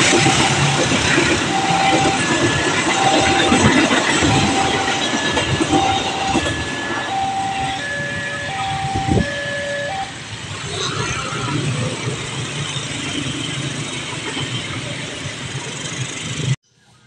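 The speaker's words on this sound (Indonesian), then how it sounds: "Kereta api Bogowonto lewat jalan Wonokrio, palang pintu Wonokrio." The Bogowonto passenger train rumbles past close by at the Wonokrio level crossing, with steady clattering wheels and a repeated crossing warning bell, ending abruptly; speech is heard over the noise.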